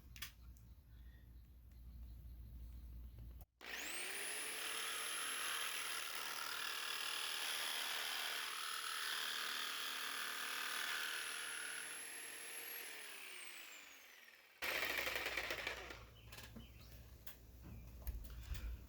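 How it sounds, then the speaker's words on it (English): A jigsaw fitted with a medium metal blade cuts through a roof rail part for an Acura MDX, giving a long, loud, steady motor whine of about eleven seconds that winds down at the end, with handling noise before and after. "I grabbed my jigsaw, and I have a medium metal blade on here"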